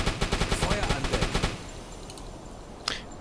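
A U-boat's deck gun in a submarine video game fires a rapid burst of about a dozen evenly spaced, loud shots lasting roughly a second and a half, followed by a quiet rumble and one distant report.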